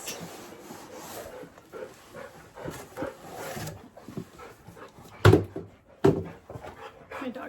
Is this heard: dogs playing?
yes